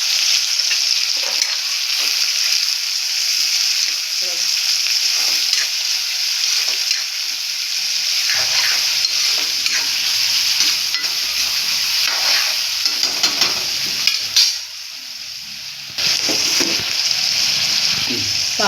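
Two chopped onions frying in oil and being stirred for mutton kaleji masala fry, a loud continuous sizzle with scraping stirs throughout and brief pauses near the end.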